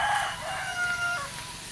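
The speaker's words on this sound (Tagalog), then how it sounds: "daming manok oh" A rooster crows among a flock of chickens, one clear drawn-out crow held over a steady outdoor farmyard background, moderately close.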